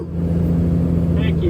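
Kenworth W900 truck engine labouring under an extremely heavy load, a steady close low rumble with even drone throughout and a brief faint whine near the end.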